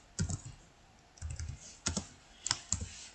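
Computer keyboard typing in MS Word: short, close clusters of clicky keystrokes in four quick bursts separated by brief pauses, crisp and fairly quiet with no talking.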